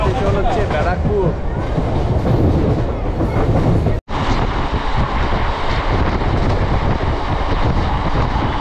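A local MEMU commuter train out of Sealdah rolls steadily with a loud, continuous rumble and wheel clatter, broken by one sudden brief dropout midway before the running noise resumes.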